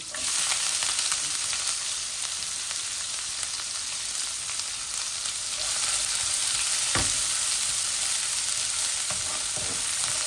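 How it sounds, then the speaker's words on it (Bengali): Medium-sized onion frying in a small amount of hot oil with browned dry spices, a steady close sizzle running unbroken throughout with a brief scrape of stirring, no voices. "এখন আমি একটা মিডিয়াম সাইজের অনিয়ন দিয়ে দিচ্ছি"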